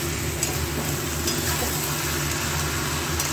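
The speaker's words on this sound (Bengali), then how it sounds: "দিয়ে ভালো করে নাড়িয়ে চাড়িয়ে এটাকে কিছুক্ষণ ভাজাভাজির মতো" Rice and lentils with turmeric being stirred and fried in a pan for khichuri, a steady close sizzle with scraping stir strokes throughout and no talk.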